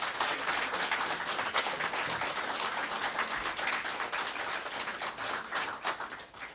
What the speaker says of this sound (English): I think our guests need a round of applause for what they've done today.